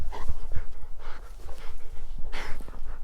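Dogs romp outdoors near woods, with rapid panting and the soft thud and scuffle of paws close by, recurring in bursts over constant outdoor background noise.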